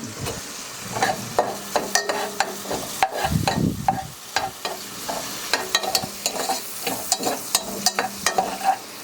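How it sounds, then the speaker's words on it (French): Lardons frying in a pan, stirred steadily: a continuous sizzle under frequent sharp scrapes and taps of a spoon against the pan, close and fairly loud, with no voices. "vous faites revenir les lardons à votre convenance"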